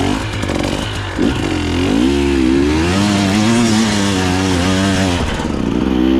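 A KTM dirt bike engine revs loud and close during an off-road ride on Akamas, its pitch climbing and wavering through throttle changes with steady mechanical clatter, no voices.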